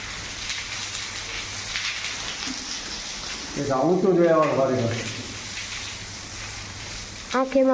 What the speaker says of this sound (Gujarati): પાણી આવે